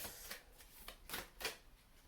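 A deck of tarot cards is shuffled by hand in about five soft, quick riffling bursts, quiet and close, with no talk.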